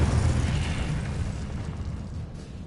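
A booming spell blast erupts in the Hogwarts Legacy video game, a loud broadband burst at the start that rumbles and slowly fades over a couple of seconds.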